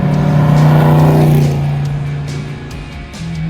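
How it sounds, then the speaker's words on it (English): Shelby Daytona Coupe race car with a raw, loud engine revving up close, pitch rising and then easing off, with a brief crackle and the engine picking up again at the end. "You hear every sound from the engine, every backfire just, blows your eardrum out."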